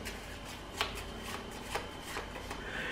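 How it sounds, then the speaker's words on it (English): Playing cards being shuffled for a card magic trick, a soft continuous riffling with a few sharper snaps, fairly quiet and with no talking. "You can do all your shuffles"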